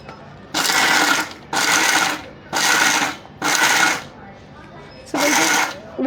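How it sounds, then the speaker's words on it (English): Spice grinder pulsing dry ingredients into a fine powder, five loud whirring bursts of about half a second each separated by short pauses, close up and without speech. "We'll use a pulse mode if you have in your mixer or grinder, so we don't get a thick paste out of it, but a fine powder."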